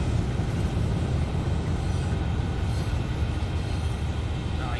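Continuous low rumbling drone of a train running in Train Sim World 2, steady and loud throughout with dense low-end engine and wheel noise, no talking.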